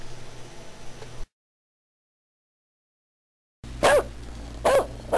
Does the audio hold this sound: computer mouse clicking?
no